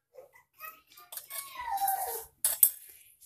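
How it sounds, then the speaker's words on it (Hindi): A spoon clinks and scrapes against a pan while coriander powder and salt are stirred into a home-cooked Indian dish, giving a run of light metallic taps and scraping bursts with brief pauses between them. "थोड़ा सा धनिया पाउडर डाल देते हैं एंड मिक्स कर देते हैं नमक डालकर"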